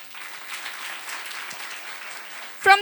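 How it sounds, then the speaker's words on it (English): An audience applauds after a classical Bharatanatyam dance performance, a steady wash of many hands clapping at moderate distance, with a voice cutting in near the end. "Let's give them a big round of claps."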